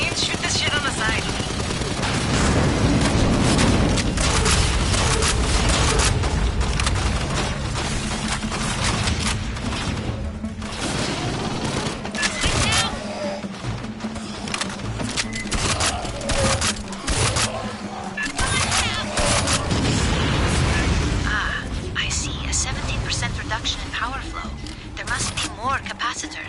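Sustained firefight from the Aliens: Fireteam Elite video game, dense rapid gunfire and bursts running almost continuously and loud throughout, layered with game effects and occasional voices talking over it.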